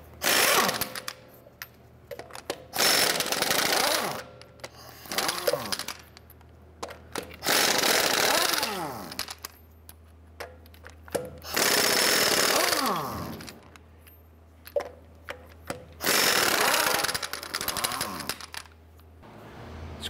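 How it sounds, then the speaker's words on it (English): An impact wrench with a 22mm socket zips lug nuts off a 2011-2018 Ram 1500 wheel in five separate loud bursts, each about two seconds long. Quiet gaps fall between them and a low hum runs underneath. "Using a 22mm socket, let's go ahead and remove our lug nuts."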